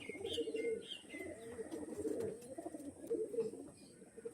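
Rare-breed pigeons kept for sale cooing in soft, repeated low calls, several overlapping phrases rising and falling close by, with faint chirps and background noise.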